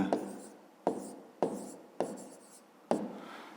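A pen writes a triangle's name by hand during a fifth-grade math exercise, giving five short scratchy bursts of strokes at an even pace, close and quiet, with no talking.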